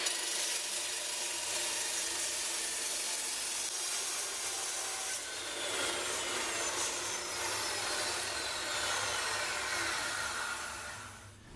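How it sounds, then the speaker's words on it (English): A cutting tool grinds through a turbo downpipe on a junkyard Camaro, a sustained harsh abrasive whir with a shift in pitch midway as the blade bites the metal, close and steady. "we're going to cut this downpipe so I can put the 4-inch to 3-inch adapter on it"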